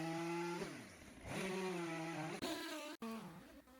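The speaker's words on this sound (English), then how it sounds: "The big chainsaw of mine makes quick work of this task." A chainsaw cutting a tree stump drones steadily with a harmonic buzz, its pitch sagging and rising as it bites into wood, with brief cut-offs near the end.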